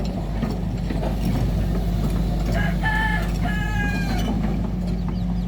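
Chickens cluck and squawk a few times over a constant loud mechanical hum.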